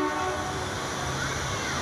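A train rumbles nearby at a station platform with a sustained horn blast over the low mechanical roar, loud and continuous.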